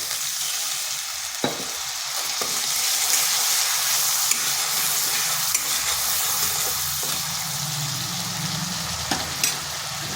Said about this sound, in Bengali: এটা বেশ কিছুক্ষণ এইভাবে নেড়ে নিচ্ছি, আদার কাঁচা গন্ধ যাতে চলে যায়।